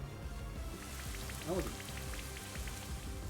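Rain summoned by the Rain Dance move in Pokemon Shining Pearl patters steadily and softly throughout, an even hiss of drops with a brief chirp in the middle.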